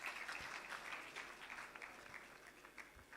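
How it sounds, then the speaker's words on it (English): Sustained applause from an audience at a university vice chancellor's excellence awards ceremony, a dense, steady wash of clapping that holds at an even level for the full stretch without letting up. "Another round of applause, please."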